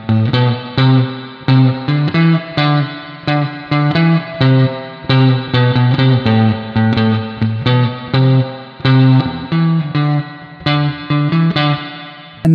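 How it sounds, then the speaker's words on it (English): Clean electric guitar run through a spring reverb in Amplitube 5, playing steady strummed chords in a loose rhythm, loud and close with a slight washy tail between strokes. "Let's say if we were to put this reverb, which is a spring reverb"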